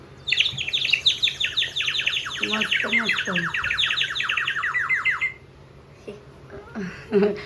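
Bright, rapid chirping and whistling trills from a water-filled bird whistle toy, close and lively, pouring out for several seconds before stopping; a person speaks briefly near the end.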